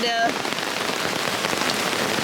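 Rain pouring down by the water on a wet, rainy day, a dense steady patter of drops hitting surfaces close by, briefly overlapped at the start by a faint tonal sound.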